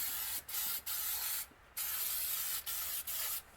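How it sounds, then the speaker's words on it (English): Several hissing bursts from a year-old aerosol spray can kept in an unheated garage, spraying unevenly, short sprays broken by brief pauses, close and fairly quiet. "this stupid can is spraying everywhere"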